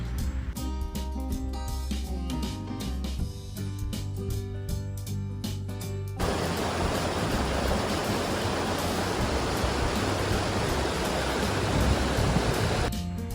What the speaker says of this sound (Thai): ตรงนี้ก็คือเป็นจุดที่ใกล้น้ำตกมากขึ้น ก็จะเห็นลำธาร